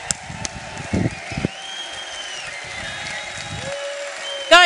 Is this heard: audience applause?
yes